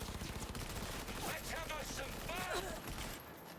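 Assault rifle fire crackles in the Cyberpunk 2077 video game, rapid bursts of shots layered under a constant dense din of combat, with voices calling out over the noise.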